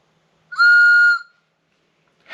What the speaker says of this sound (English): Something so silly, a stupid little whistle, makes it so satisfying.